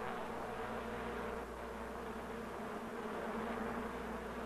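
A dense, steady hum of many honeybees buzzing inside the hive fills the clip, continuous and even, with no voices.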